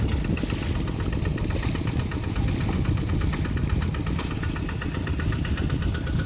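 A low, steady tractor engine drone with a rapid chugging pulse runs throughout, close and constant, with no voices.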